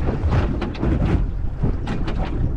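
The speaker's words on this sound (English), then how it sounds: "It's a lot windier than what they said it was going to be" Strong wind gusts buffet a small fishing boat at sea off the UK, roaring steadily for the whole stretch with rising and falling surges and no voices.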